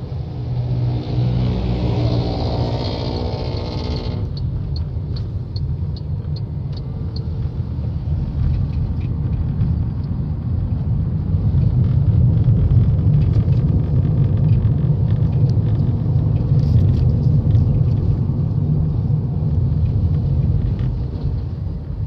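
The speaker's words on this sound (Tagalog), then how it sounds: "View dito. Puro sasakyan. Buti, walang masyadong traffic." A car's engine rumbles steadily from inside while driving through traffic, a constant loud low drone with a faint whine early on, swelling slightly midway and carrying on without speech.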